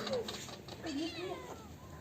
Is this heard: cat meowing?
yes